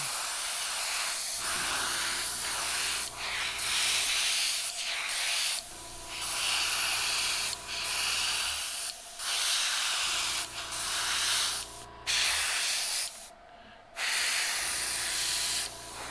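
An airbrush at 30 psi sprays base coat onto fishing lures in repeated close, loud hissing bursts of a few seconds each, separated by short quiet pauses.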